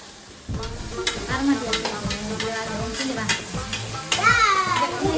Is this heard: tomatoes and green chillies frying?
yes